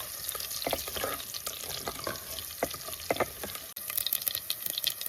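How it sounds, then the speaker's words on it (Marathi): Mustard seeds crackle and pop in hot oil while tempering for a mango raita, a continuous sizzle with scattered sharp snaps, close up. "आता ह्याच्यात मोहरी टाकते मोहरी मोहरी बरी नसली तडतडली म्हणजे ह्याच्यात आंबे फोडणी टाकायचे"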